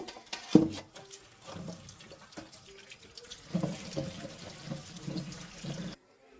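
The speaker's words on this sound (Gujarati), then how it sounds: "આપણે આને ચોખ્ખા પાણીએ ધોઈ નાખીશું" Water runs from a tap and splashes as mangoes are rinsed by hand, with soft knocks and sloshing for several seconds before it stops.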